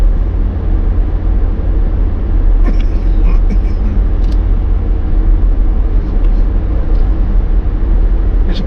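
A car cruises along Highway 14, a well-maintained old road, giving a steady loud interior road rumble and tire noise with no breaks, heard close from inside the vehicle.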